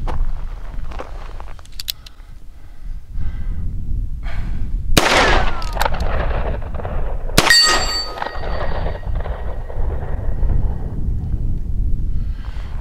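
An 1858 Remington revolver chambered in .45 ACP fires at a steel target: two loud, sharp shots, each followed by a bright ringing clang of metal, with quieter handling noise between them and no talk.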